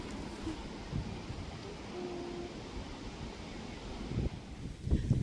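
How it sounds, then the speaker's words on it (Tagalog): Strong wind roars and buffets the microphone continuously in a lupine field, with a rumbling, gusty noise and a few bumps near the end. "Grabe, ang lakas ng hangin."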